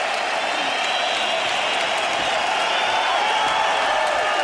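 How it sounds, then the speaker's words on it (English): An arena crowd at the first UFC event in Germany applauds and cheers after a main-event fight, a loud, continuous roar of clapping and voices with no break. "This crowd is standing on its feet."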